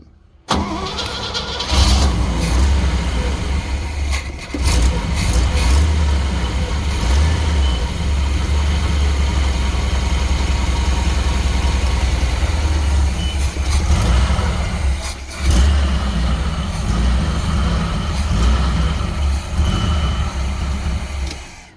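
A 1964 Chevrolet Suburban, just rewired, cranks and catches, its engine running loud and close with uneven surges and a couple of brief dips over about twenty seconds.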